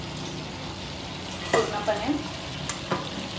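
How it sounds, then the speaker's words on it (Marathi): Chicken fries in a pan with a continuous close sizzle, broken by a few scraping stirs in the middle, while a voice speaks briefly. "चिकन फ्राय होत आहे"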